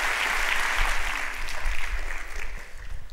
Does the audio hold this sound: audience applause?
yes